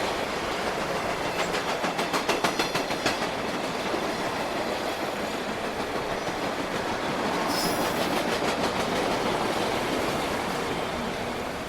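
A train rolls past on railroad tracks beside a wooden shack, a steady loud rumble with rhythmic wheel clatter and a brief high squeal partway through, no voices.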